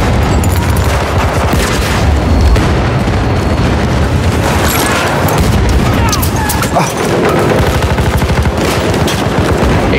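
Loud, dense battle noise in the video game Battlefield: booming grenade blasts mixed with heavy gunfire, a constant roar with no clear pauses.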